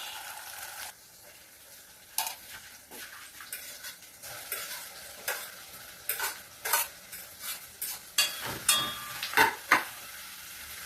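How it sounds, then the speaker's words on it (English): Saltfish tipped into a pot of sautéed vegetables and seasoning, a low sizzle broken by a run of sharp clinks and scrapes of utensils against the pot, growing busier toward the end, no talking. "So the pot, the vegetables, the season has sauteed, so going in with the saltfish."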